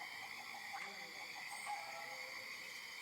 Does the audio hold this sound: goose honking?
no